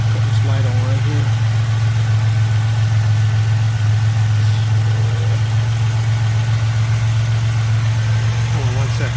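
A turbocharged Buick Grand National engine idles steadily just after a cold start, a loud, constant low rumble with a hum that never lets up, and faint voices occasionally audible beneath it.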